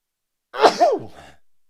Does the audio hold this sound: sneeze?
yes